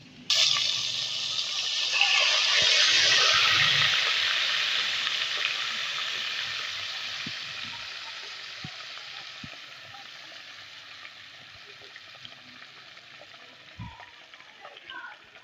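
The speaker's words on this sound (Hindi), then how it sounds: "हमने साग को तड़का लगा देना है" Spices tempering in hot oil for sarson ka saag give a steady sizzling hiss, loudest in the first few seconds and then slowly fading, with faint kitchen clinks underneath.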